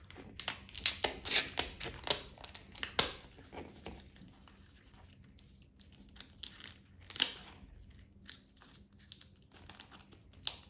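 Knife and shears cutting and cracking through a lobster shell during prep of rasta pasta: crisp crunching, snipping and crinkling bursts in the first three seconds and again near seven seconds, quieter handling between, close up with no talk.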